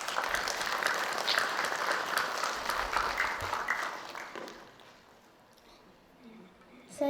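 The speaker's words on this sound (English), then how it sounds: "Please join us to give them a big round of applause." Audience at an International Day of Hope yoga event applauding in a steady wash of clapping that fades out after about five seconds, leaving near quiet before a brief sound at the end.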